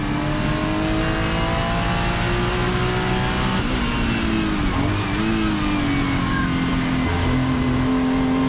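A Porsche 935 race car engine screams at high revs nearby, a loud sustained whine that rises and dips smoothly as the throttle shifts.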